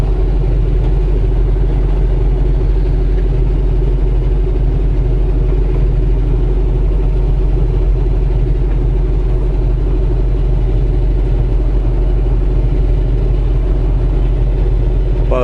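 Heavy truck diesel engine cruising steadily in ninth gear at 1500 RPM and 53 mph on cruise control near the Allegheny Tunnel, a loud, constant low rumble and drone with no breaks, heard alone from inside the cab.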